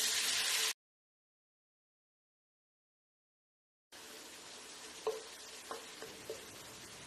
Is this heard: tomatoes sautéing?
yes